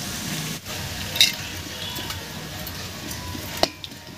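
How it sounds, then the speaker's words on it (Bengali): Strands of potato jhuri fry in oil over a lowered flame, making a soft, steady sizzle with a few sharp clinks from a utensil stirring nearby. "এবারে উনুনের আঁচটা একটু কমিয়ে ঝুড়িগুলো ভেজে নেব।"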